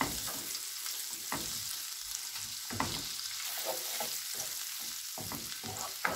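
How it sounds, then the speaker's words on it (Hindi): Garlic frying in melted butter in a pan, a soft, faint sizzle with scattered light stirring taps and scrapes throughout. "बटर अच्छे से मेल्ट हो गया है, अब इसमें ये लहसुन डाल देंगे। इसे थोड़ा सा मक्खन में भूनेंगे।"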